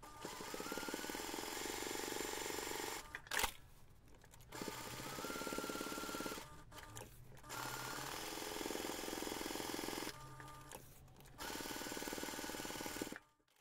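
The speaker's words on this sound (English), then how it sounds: "we're going to take this to the machine and we're going to baste all 4 sides" A sewing machine runs in steady bursts of stitching as all four sides of a ring binder pouch are basted, with short pauses between passes, close and alone without talk.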